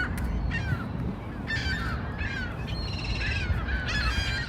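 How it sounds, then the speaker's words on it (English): Juvenile gulls call repeatedly in a mall parking lot, a series of harsh rising and falling squeals overlapping one another against a constant wash of outdoor noise. "Hordes of baby gulls are causing a flap at a mall parking lot in Prince George,"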